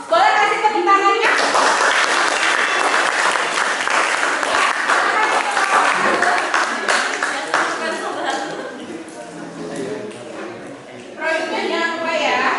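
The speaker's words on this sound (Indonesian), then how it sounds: "Untuk kelompok 1, boleh kasih tepuk tangannya?" An audience applauds group one at a classroom presentation, energetic clapping mixed with voices and some laughter, swelling for most of the span and thinning as talk takes over near the end.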